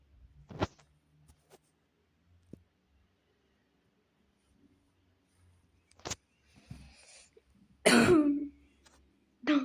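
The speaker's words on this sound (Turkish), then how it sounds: "o öksürük neydi?" A single sharp cough rings out close by after a long near-silent stretch, followed by a loud broadband burst and faint rustling, with a few quiet clicks scattered earlier.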